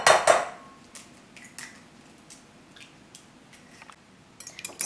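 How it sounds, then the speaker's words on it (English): Eggs whisked in a bowl: a loud clatter of utensil against the dish at the start, then a light, fairly regular series of soft taps and clinks, close by with no talking. "Just going to whisk up the eggs to give them a nice fluffy beat to them."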